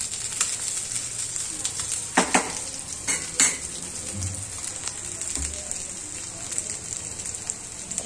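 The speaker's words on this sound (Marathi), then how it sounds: "मस्त फ्राय झालेत मासे." Fish (shingada) frying in a pan at home for dinner gives a steady close sizzle and crackle, broken by a few sharp pops and clinks of stirring.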